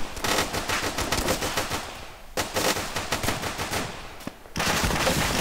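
Machine gun fire in the video game Arma 2, loud sustained automatic bursts rattling close by, broken by brief pauses between long strings of rapid shots.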